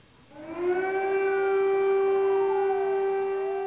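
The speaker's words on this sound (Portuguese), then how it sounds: "O som aterrorizante da sirene na capital da Ucrânia" An air raid siren wails over Kyiv, Ukraine, rising from low to a loud, sustained tone that holds steady for several seconds, alone with no voices.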